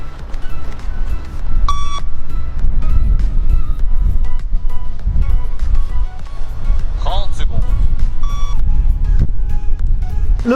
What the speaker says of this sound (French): à chaque bip on doit être à un plot